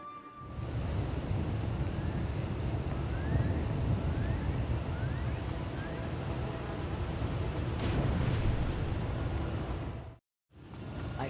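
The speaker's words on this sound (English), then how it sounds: "I fear the storm is getting worse." Thunderstorm in Star Wars: The Old Republic, with steady heavy rain and gusting wind roaring continuously at close range, faint rumbles of thunder within it, then a brief drop to silence before the downpour resumes.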